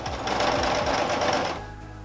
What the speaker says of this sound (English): Sew on the scallop edge with a seam allowance that is slightly less than 3/8 of an inch.